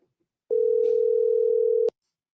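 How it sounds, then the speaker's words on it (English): An outgoing phone call gives one steady, sustained electronic tone lasting about a second and a half, clear and alone, then cuts off. "Let me see if I can get him on the phone."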